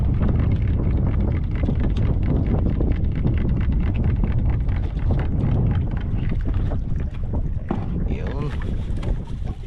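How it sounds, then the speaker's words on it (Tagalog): Strong wind buffets a boat out at sea on a fishing trip, a loud steady roar of gusts and water rush battering close to the microphone throughout, with voices faintly under it. "Nilalamig kami sa lakas ng hangin."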